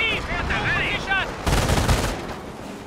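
Machine gun fire in a war video game sounds in a loud sustained burst of rapid shots near the middle, after a stretch of wailing, siren-like tones and shouted talk.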